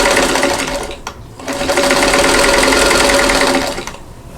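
A sewing machine stitches quilt block pieces for a Kansas Star block, a loud, close, steady mechanical whir that pauses briefly and then runs on.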